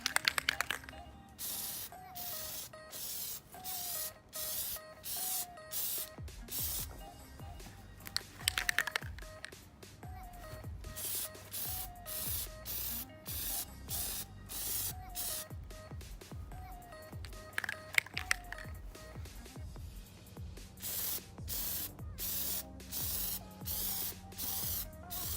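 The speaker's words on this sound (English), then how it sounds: "Plasti dip is really shaken up here. We're ready to go ahead with our first coat." Plasti Dip aerosol sprayed onto a BMW E30 kidney grill in repeated short hissing bursts with brief pauses between passes, close and fairly quiet, with light handling clicks in between.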